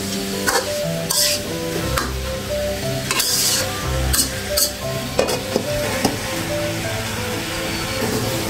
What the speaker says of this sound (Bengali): একটু নেড়ে চেড়ে ঢেকে দেব